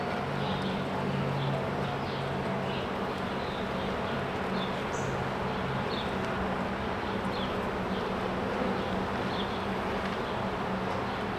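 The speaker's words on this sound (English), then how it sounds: "Here comes the worker bee." Worker honeybee buzzing as it emerges from its cell, a steady close insect drone over a constant background hum, with faint brief higher buzzes drifting in and out.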